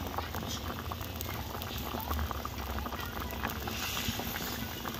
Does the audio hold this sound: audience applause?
no